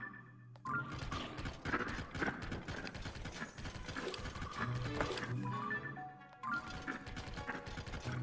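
Horse hooves clatter in The Legend of Zelda: Tears of the Kingdom as the mount is ridden, a quick rhythmic clip-clop with gear and mechanical clanks layered in, pausing briefly before resuming.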